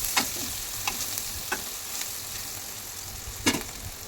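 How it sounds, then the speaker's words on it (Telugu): Onions and green chillies, with cumin, fry and sizzle steadily in a kadai, a constant hiss broken by a few scraping strokes of a spoon stirring them, close by and without talk. "ఉల్లిపాయలు పచ్చిమిరపకాయలు వేసేసుకొని కొంచెం వేయించుకోవాలండి మంచిగా ఇలా కలుపుతూ కొంచెంసేపు ఉడికించుకోవాలి"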